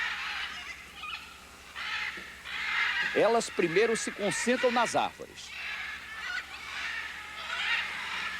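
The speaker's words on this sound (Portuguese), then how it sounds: "As araras chegam na hora marcada" Macaws arriving in the trees give a short run of harsh, repeated squawking calls, loud and close, over a soft narrating voice and faint background hiss.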